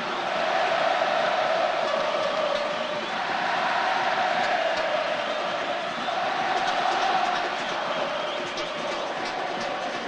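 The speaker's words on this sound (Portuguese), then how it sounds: "Aí o torcedor do Vitória, o torcedor rubro-negro." Vitória supporters roaring at Barradão stadium during a 2009 Brazilian championship match, a dense, sustained crowd din with swelling chants, steady and loud throughout.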